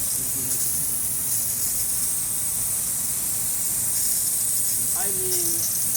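Lawn sprinkler spraying water over already soaked grass beside apartments, a steady close hiss of water running throughout, with a faint brief chirp near the end.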